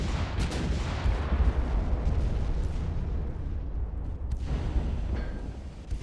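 A torpedo slams into a warship's bow during a naval battle in Ultimate Admiral: Dreadnoughts, a loud, sustained booming rumble of explosion and heavy gunfire that rolls on with several sharper bursts.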